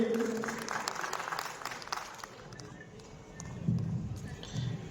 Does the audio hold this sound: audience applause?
yes